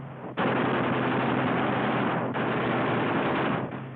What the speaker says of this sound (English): Cyclic rate of fire, 800 rounds a minute. You've got 8 guns, 106 bullets a second.